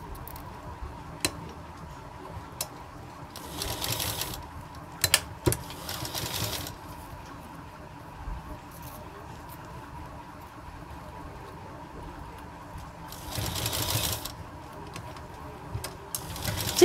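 Sewing machine stitching kurti sleeve fabric, a steady low mechanical whir with ticking, and several louder bursts of fast stitching, plus occasional sharp clicks, heard up close with no voice.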